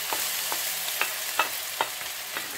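Steady sizzle of diced potatoes frying in a little oil, with several distinct scrapes or stirs at regular intervals, close and moderately loud, no voices.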